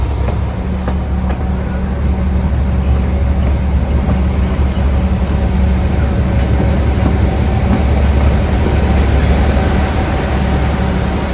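A Kangra Valley Railway narrow-gauge train between Baijnath and Joginder Nagar rumbles steadily throughout, with low wheel noise and faint rhythmic rail clatter, no voices.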